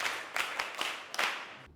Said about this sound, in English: Please clap for yourself again.